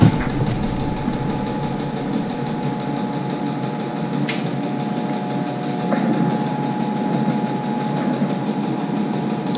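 A military tent heater runs with a steady, close, even mechanical drone and faint rattling vibration, with a couple of light clicks over the continuous hum.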